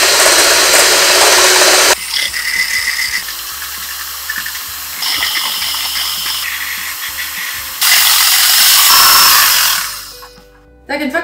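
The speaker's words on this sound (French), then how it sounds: "un batteur électrique plutôt qu'un fouet à main" An electric hand mixer whips dalgona matcha in a bowl, a loud steady whir with changes in pitch and intensity as it works, continuing for about ten seconds before winding down and stopping.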